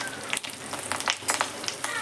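Fish roe fritters fry in oil over a medium gas flame, a close, crackling sizzle with rapid bubbling pops throughout the short stretch.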